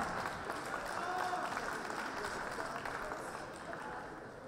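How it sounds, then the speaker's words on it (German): A crowd at a boxing event applauds at a distance, a soft continuous patter of clapping that slowly fades, with some voices mixed in. "willkommen, Applaus."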